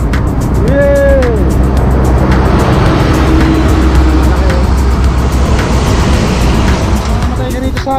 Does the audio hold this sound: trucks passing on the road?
yes